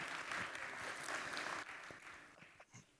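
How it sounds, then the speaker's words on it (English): A faint round of applause from an audience at a housing affordability policy event, steady clapping that tapers off near the end. "Let's give them all another big round of applause."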